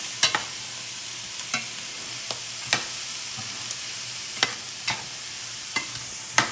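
Frozen corn is stirred into a frying pan of rice, bringing a steady bright sizzle broken by repeated sharp spatula scrapes and taps at irregular intervals, close up with no talk.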